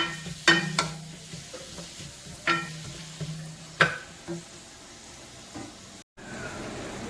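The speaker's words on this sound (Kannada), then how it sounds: "ನೋಡಿ, ಈರುಳ್ಳಿ ಫ್ರೈ ಆಗ್ತಾ ಉಂಟು." Onions sizzle in a pan as a masala base for a drumstick and prawn gravy, a steady fry broken by several sharp stirring scrapes of a spoon against the pan, close and alone.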